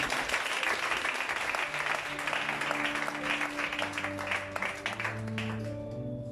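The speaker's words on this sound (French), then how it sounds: "Acclame Jésus" A church congregation claps and cheers in a dense, continuous wave of applause that fills the room, with faint sustained voices or music tones underneath, the clapping thinning toward the end.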